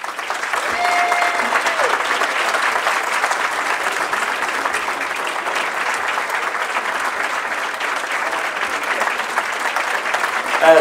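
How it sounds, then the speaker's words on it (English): Sustained audience applause fills a hall at a high school sports hall of fame banquet, a steady dense clapping wash that holds for the whole stretch with no speech over it. "Thank you for your applause for her."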